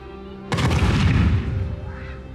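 Fireworks launch with a sudden loud thud and rushing whoosh that rings out and slowly decays over a faint steady background hum.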